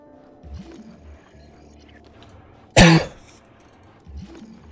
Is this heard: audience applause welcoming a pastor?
no